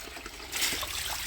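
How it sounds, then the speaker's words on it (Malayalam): A brief, soft trickle of water running from a filter line pipe during backwashing, rising slightly into a brighter splashing flow partway through. "വെള്ളം വന്നുകൊണ്ടിരിക്കുന്നു"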